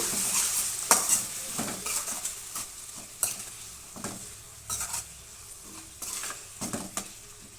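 Mashed elephant yam pulp is stirred in a hot pan with a metal spoon, giving repeated scraping clinks against the pan over a soft, steady sizzle, close up with no talking.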